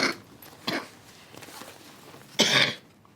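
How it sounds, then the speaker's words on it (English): A few sharp coughs, close up, separated by quiet gaps, with the last cough the loudest and longest. "You're coughing a lot"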